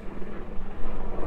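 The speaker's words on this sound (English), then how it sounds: "got a helicopter too." A helicopter flying over a lake gives a loud, steady rotor rumble with a pulsing beat, heard briefly and close.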